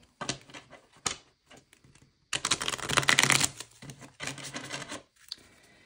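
Bursts of riffling and clattering from cards being shuffled, several short runs then a longer loud one, separated by brief pauses.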